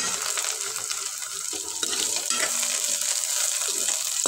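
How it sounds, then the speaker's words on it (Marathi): A spoon stirs a spicy Maharashtrian moth bean curry, matki rassa bhaji, after coriander goes in, with steady bubbling sizzle and soft scraping strokes against the pan, close up and continuous, without talk. "त्यात कोथिंबीर घातल्यानंतर परत एकदा मिक्स करून घेते"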